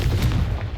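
A Confringo fire spell cast in Hogwarts Legacy detonates in a short, loud, boomy burst, a single low blast lasting under a second with no talking.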